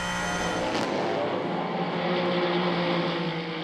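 GTE Am race cars at the 6 Hours of Spa, including an Aston Martin and a Porsche, roar loudly and continuously at high revs, a dense engine howl with no talk over it.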